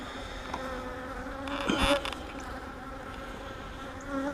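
Honey bees buzz loudly and steadily close by during a hive inspection, a continuous droning hum that swells briefly midway.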